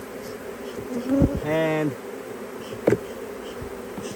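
Honey bees buzz around a beehive in a constant close drone with brief louder passes. A voice speaks briefly over the buzzing.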